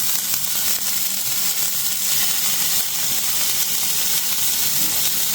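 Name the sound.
onion and tomato frying in a pan for chow mein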